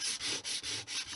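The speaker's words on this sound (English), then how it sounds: "Next step is to get rid of that on a piece of sandpaper." A small model air duct part rubbed back and forth on sandpaper, five quick rhythmic scratchy strokes, close and fairly quiet.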